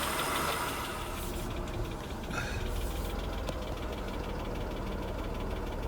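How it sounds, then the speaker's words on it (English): A 1992 Mercedes W124 300E with an M103 engine idles steadily up close, warmed up, with a faint, rapid ticking from noisy valve lifters mixed into its rumble. "now I can hear the lifter now"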